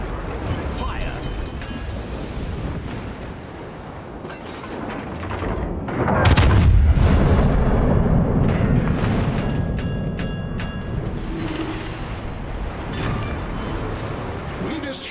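Battleship St. Vincent's big guns fire in a World of Warships naval battle. A heavy booming salvo rolls out midway and rumbles over the constant wash of the sea.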